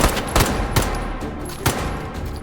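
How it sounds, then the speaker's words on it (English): Rapid gunfire in the H3VR virtual reality shooter, several loud close shots cracking in an irregular burst over a steady background rumble. "Yay, more shooting."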